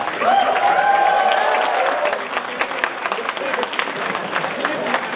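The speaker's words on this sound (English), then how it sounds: "Round of applause for this guy." A convention panel audience at Anime NYC breaks into a loud round of applause with a few cheers, swelling at the start and then thinning into scattered claps, while a voice talks faintly beneath it.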